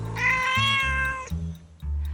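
A mother cat beside a lakeside deck calls to her kittens with a long, loud, tonal meow, followed by a few shorter, softer chirping calls close to the microphone.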